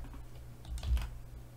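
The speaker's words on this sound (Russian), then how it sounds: "Нажимаю L на клавиатуре" A single key press on a computer keyboard, a soft close click in a quiet room with faint hum beneath.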